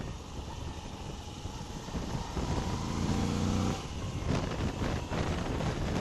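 A Moto Guzzi V85TT motorcycle engine hums steadily up close with wind rush, the drone swelling mid-clip as the bike is ridden and slowed under braking, with no talk.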